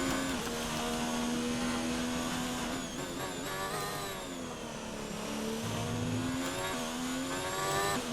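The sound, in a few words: Formula 1 car engine revving through gears, from a video game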